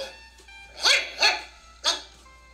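A dog barks three times in a close, loud sequence of sharp, separate barks against quiet surroundings, with no talking.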